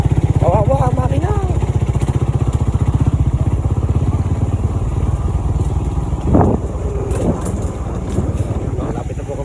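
A motorcycle engine labours with a low, pulsing drone that sags in pitch, recorded up close while riding, with wind noise and a voice speaking briefly over it.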